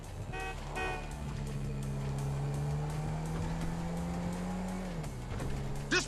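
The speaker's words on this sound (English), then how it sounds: "That's a monster fucking bike you riding" A motorbike engine in Grand Theft Auto 5 drones steadily and loud throughout, its tone climbing slowly, then dropping sharply near the end, with a brief higher honk-like tone early on.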